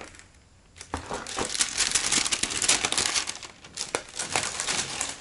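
Paper from an unboxed clothing parcel crumples and crinkles close by in a continuous run of dry rustling bursts, with a brief quiet moment near the start and no talking.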